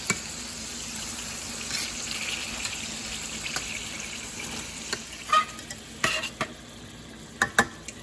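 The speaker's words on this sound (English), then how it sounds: "Okay, I'm gonna go ahead and flip them." Salisbury steak patties fry in a pan just after flipping, giving a steady, soft sizzle throughout, with a few sharp clinks and scrapes from a utensil near the end.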